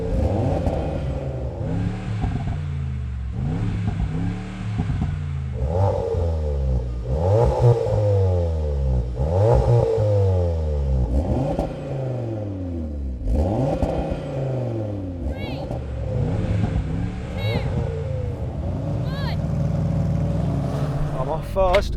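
Three cars, a Mercedes-AMG G63, an Audi RS3 and a Seat Leon Cupra R, accelerate hard side by side in a drag race, engines roaring loudly through repeated rising gear-change sweeps, with a voice talking over the din.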